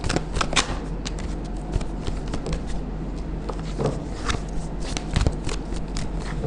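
Tarot cards are shuffled by hand: a rapid run of crisp papery riffles and flicks, close and fairly quiet, with no talking.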